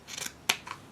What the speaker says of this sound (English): I'm going to snip here.